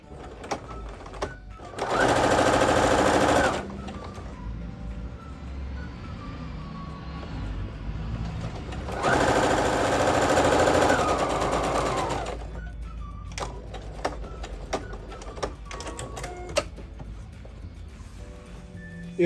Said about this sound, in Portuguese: Vou aplicar a minha cianinha no meio entre uma costura e a outra, ajudando a fazer o pês-ponto.